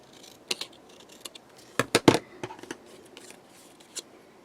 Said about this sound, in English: let's get those cut out. I am going to leave a slight border around there